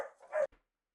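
Dogs bark in a short close burst, Great Danes and a husky kept together indoors, one loud yelp-like bark rising then cutting off abruptly before silence.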